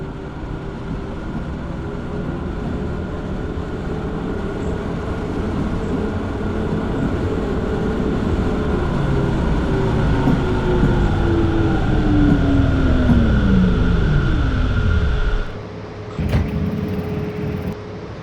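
Frankfurt U-Bahn subway train in a train simulator game, approaching with a loud rumbling roar and a descending pitched whine that swells and then drops off sharply as it passes, followed by a brief clank.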